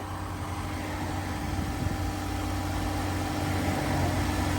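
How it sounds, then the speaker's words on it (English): A green automatic Mazda RX8, revived after sitting for two and a half years, idles steadily just after startup with an even, continuous hum and low rumble throughout. "let's take a look at how this engine's running."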